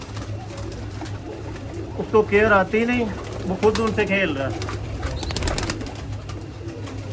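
Pigeons coo in soft, rolling phrases close by, two clear bouts separated by a pause, partly under a man's speech.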